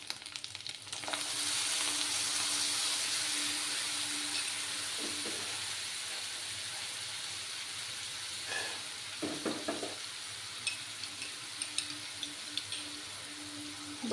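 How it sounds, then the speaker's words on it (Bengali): Spice paste sizzles steadily in a hot pan while rui fish is cooked, a loud continuous frying hiss with a few scraping stirs and clinks toward the end. "এবার আমি এই মশলা পেস্টটা দিয়ে দেব"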